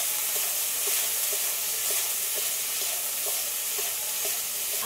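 Flowers stirred into a pan of curry sizzling and frying in oil, a steady dense hiss with faint soft stirring clicks recurring throughout.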